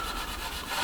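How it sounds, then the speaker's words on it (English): Light abrasive rubbed up and down a wooden table corner to smooth off glue, giving a soft, steady, close scratchy hiss that runs unbroken for under a second. "I'm just going to put the lightest rub of abrasive up and down the corner"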